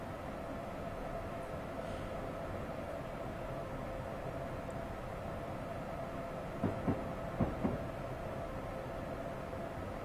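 Amtrak ACS-64 electric locomotive running in Train Simulator 2015, a steady low rumbling drone of the moving train with a few quick clicks of wheels over rail joints near the end.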